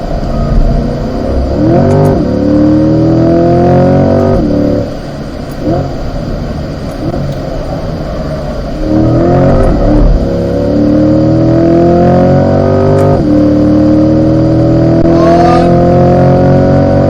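C8 Corvette on a race track, its engine note climbing through repeated hard accelerations with rising pitch sweeps, loud and continuous with brief lifts between pulls.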